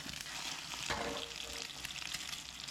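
Eggs frying in a pan give off a steady, close sizzle with crackling spits throughout and a brief louder flare near the start, no voices over it.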